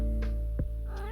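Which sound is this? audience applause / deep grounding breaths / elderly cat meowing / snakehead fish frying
elderly cat meowing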